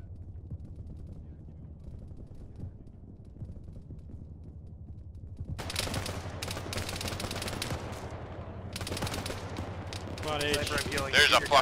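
Rapid bursts of rifle and machine-gun fire in the ShackTac military sim break out about halfway through and keep going loud to the end, with a low rumble of game ambience under them.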